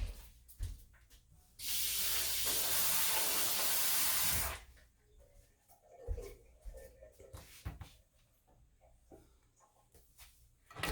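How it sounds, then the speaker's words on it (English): Tap water runs in a strong steady hiss for about three seconds as sausage is rinsed, framed by quieter kitchen handling noises before and after. "I always rinse my sausage off, so I'll be right back."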